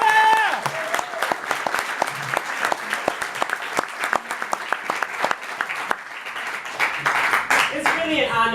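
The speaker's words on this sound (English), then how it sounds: "I think they deserve another round of applause." An audience applauds women panelists at a panel event, with loud, dense clapping that runs steadily from start to finish, some crowd noise mixed in and a voice speaking near the end.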